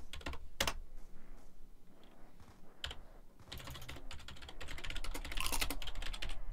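Rapid bursts of typing on a computer keyboard during an online multiplayer game, keys clattering in uneven flurries with brief pauses, growing denser and louder toward the end, with no talking.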